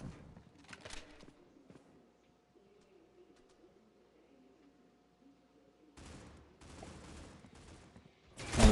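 Pistol gunfire in the opening round of a competitive Counter-Strike style esports match, heard as sharp bursts of shots near the start and again in busier clusters toward the end, with a quiet stretch of game ambience between.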